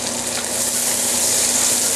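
Sliced cabbage hitting a hot pan with onion and garlic, a steady, dense sizzle that stays loud and close without a break.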